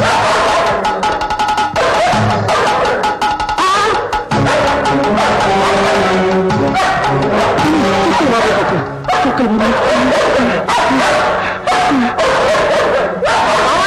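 Several dogs bark and yip loudly and almost without pause in a film scene, over a dense mix of other noise with some voices in the background.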